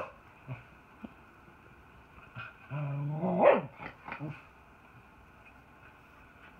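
A cocker spaniel barks and growls indoors. The growly, vocal bursts come in a short cluster near the middle, fairly quiet and close, with brief sounds around them.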